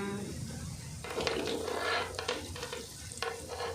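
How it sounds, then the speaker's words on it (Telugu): Onions stir-frying in oil in a kadai give a steady sizzle, with scraping stirs and clinks of a utensil against the pan throughout, fairly close, while a voice speaks faintly in places. "ఆనియన్స్ మొత్తం కింద పడేయకుండా మంచి కడాయిలో వేసుకొని కలుపుకోవాలి. మంచిగా ఆయిల్లో ఫ్రై చేసుకోవాలి."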